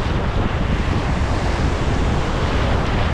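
Ocean surf rolls in rough seas during a monsoon-season fishing trip: a steady, dense wash of breaking waves mixed with wind buffeting the microphone, continuous and loud for the whole stretch.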